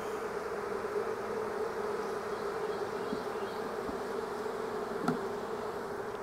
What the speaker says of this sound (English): There's quite a few bees on these last couple of frames I'm putting in.